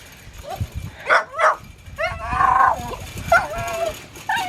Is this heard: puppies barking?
yes